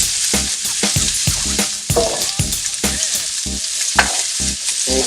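Corn fries in a pan and is stirred, with a steady close sizzle under a series of scraping, clattering strokes from the utensil roughly every half second.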